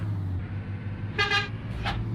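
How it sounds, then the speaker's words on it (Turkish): A bus horn in the Mobile Bus Simulator video game sounds two quick honks close together, then a third short toot, over a low idling engine hum. "Kornaları çok beğendim ya."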